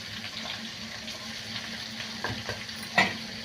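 Onions and tomatoes fry in a pan for a crab fry, giving a steady, close sizzle under a few soft scraping stirs and one sharper knock of a spoon against the pan near the end.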